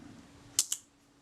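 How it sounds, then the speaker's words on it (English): Two quick, crisp mechanical clicks from cocking the Synchro Compur shutter of a Kodak Retina IIIc camera during servicing. They sound close up and sharp against a quiet background, with the second click coming a split second after the first. "so I can still cock the shutter"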